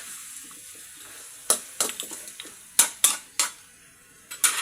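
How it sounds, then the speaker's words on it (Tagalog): Potatoes tumble into a metal pot of pork trotters and ribs, giving a string of sharp, close clunks and knocks at an irregular rhythm, with no talking. "Lagyan na rin po natin tong patatas para sumabay na po siya na lumambot."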